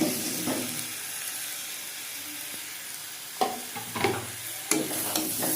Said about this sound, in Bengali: ভেজে রাখা পটল আলু দিয়ে দিচ্ছি